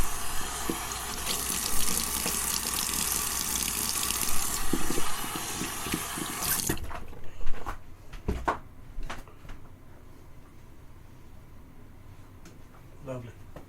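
Water runs steadily from a tap while a shaving razor is rinsed under it, a close, even gush that stops partway through, followed by a few soft knocks and clinks.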